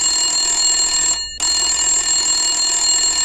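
A telephone rings with a bright, steady electronic tone that stops briefly near the middle and then resumes, loud and alone without any voices.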